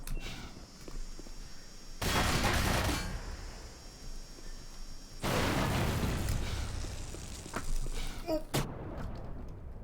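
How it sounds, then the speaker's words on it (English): Explosions and gunfire from the first-person shooter game Black Mesa, with two long loud bursts of blast rumble, sharp pops and footsteps between them, and a closing crack. "Explosive crate blew up in my face."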